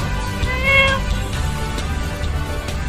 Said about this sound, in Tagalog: may pusa dito